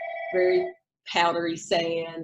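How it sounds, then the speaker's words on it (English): A telephone rings during an indoor real estate interview on Dauphin Island, Alabama, with two loud, bright rings separated by a short pause while someone speaks over them. "sorry about the phone call"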